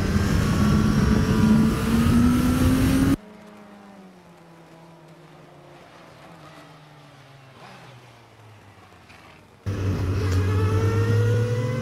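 Racing motorcycles on a narrow road course, loud engine drone with rising pitch as a bike passes close, dropping to a fainter distant engine note mid-clip before another loud close pass returns at the end.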